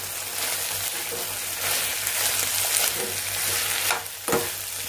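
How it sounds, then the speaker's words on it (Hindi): Curd is stirred into soya manchurian in a pan, making a continuous wet sizzle and scraping with a couple of louder clanks near the end. "तो दही को अच्छे से मिक्स करेंगे"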